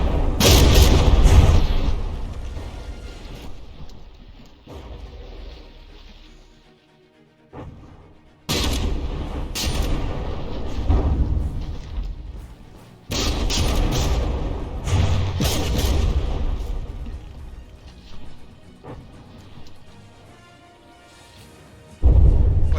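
Naval guns firing back and forth between two immobilized battleships in the game From the Depths, a tournament battleship brawl: heavy booming blasts in repeated loud bursts with rumbling gaps between volleys.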